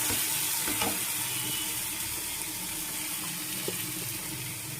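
Fish cooking in a pan with coriander leaves, green chili, ginger, garlic, onion and tomato gives off a steady close sizzle and bubbling, with faint stirring clinks and no voices.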